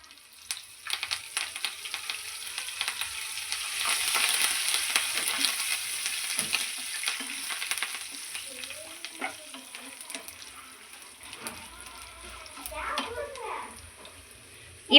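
Steady crackling sizzle of curry leaves frying in hot oil for tamarind rice, loud and close, with occasional stirring clatter and faint voices in the background.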